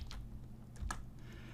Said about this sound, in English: So I'm going to start typing.